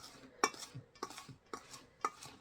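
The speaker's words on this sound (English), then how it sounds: "what we're going to do is we're going to whisk that together so it's good and combined" A whisk stirs salt and other dry ingredients in a bowl for homemade pizza dough, making four quick, even scraping strokes at about half-second intervals, close and fairly quiet.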